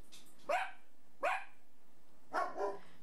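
Dogs bark three separate times at a moderate distance: two single barks spaced apart, then a quick double bark, with quiet gaps between and no talking.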